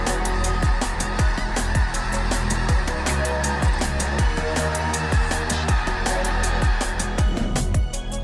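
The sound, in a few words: thousands of migrating snow geese in the Skagit valley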